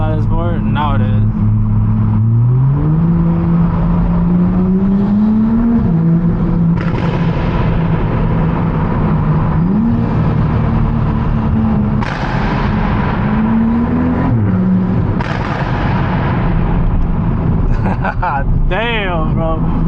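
Porsche cars rev loudly on a racetrack, engine notes rising and falling through repeated gear changes with sharp pops and crackles, close and dominant throughout the clip.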